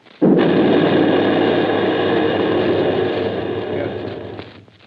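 Artillery fire sound effect from a War of the Worlds radio drama: one sustained roaring blast that holds loud for several seconds before slowly fading, with no voices over it.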